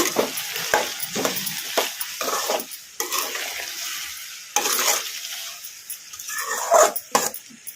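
Salted ridge gourd and drumstick pieces are stirred in a pan, with repeated scraping and tossing strokes over a soft sizzle, the motion coming in irregular bursts.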